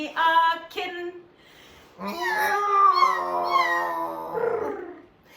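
A person's voice imitates a kitten meowing in a children's song about great noises: a few short mewing cries, then a longer wavering sung meow, close and clear.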